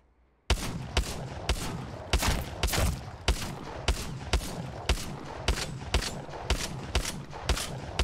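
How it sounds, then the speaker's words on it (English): Double automatic shotguns fire in the video game Apex Legends, a steady burst of about a dozen sharp, evenly spaced blasts roughly half a second apart after a brief quiet start. "Double auto shotty? Let's try it."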